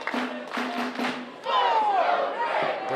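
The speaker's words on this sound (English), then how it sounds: "The crowd tried to rally around their champion, the people's champion, Dak Draper." Wrestling event crowd roaring and cheering for their champion, a dense wash of shouts and calls, loud and close, swelling louder midway with voices yelling over it.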